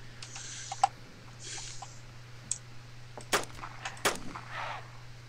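Two sharp gunshots at a zombie in the survival video game DayZ, fairly quiet and spaced about a second apart, over a steady low hum and a few faint clicks.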